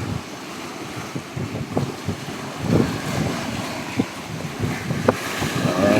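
Rough surf and gusting wind along a shoreline, a steady broad roar with wind buffeting the microphone and occasional louder wave surges, close and continuous with no talk.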